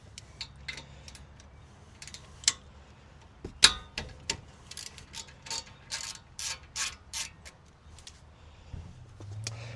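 A 14 mm ratchet loosens the brake caliper slider bolts on the front brakes of a 2018 Honda CR-V. Close, crisp bursts of rapid pawl clicks run in uneven spurts, with small metallic taps and short pauses between strokes.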